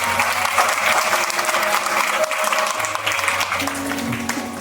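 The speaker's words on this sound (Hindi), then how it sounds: "जोरदार ताली बजाएं उसकी महिमा के लिए" A church congregation applauds loudly at a Republic Day sermon, many hands clapping in a sustained dense roar with faint background voices and tones underneath.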